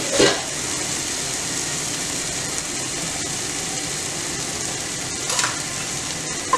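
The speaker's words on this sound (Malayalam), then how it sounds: "ഇനി നമുക്ക് കഴുകി വെച്ചിരിക്കുന്ന ചിക്കൻ ഇട്ട് കൊടുക്കാം." Washed chicken pieces drop into hot sizzling masala for a Kerala nadan chicken curry, giving a steady loud frying hiss with a brief louder crackle near the start and another near the end.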